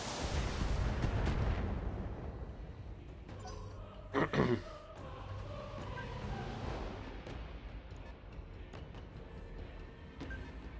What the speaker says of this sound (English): I guess we're just gonna fire that SRM6